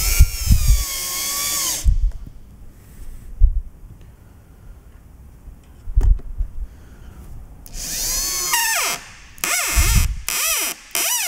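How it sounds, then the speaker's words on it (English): A high-pitched ShopBot Desktop CNC machine whines as it drills into MDF board in several bursts, with quieter gaps between passes and a sweeping, rising-and-falling pitch near the end. "here's where we're gonna be drilling"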